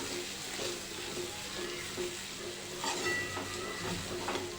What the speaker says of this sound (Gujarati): હવે આપણે આ લીલી તુવેરની પેસ્ટ બનાવી છે તે આપણે લઈ લઈશું અને તેને તેલમાં સાતોઈ લઈશું